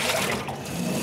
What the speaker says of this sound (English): it projects that water through the suction tube until it starts to show it's clean coming out of the bottom